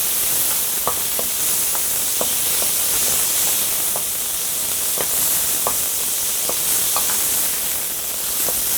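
Chicken and vegetables fry in a pan with a few drops of sesame oil, giving a steady, moderately loud sizzle and hiss broken by small scattered pops and crackles.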